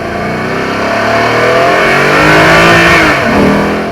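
A Maserati GranSport's Italian V8 revs loudly, the engine note climbing and then dropping in one strong sweep with a rising howl, heard close and alone with no talk.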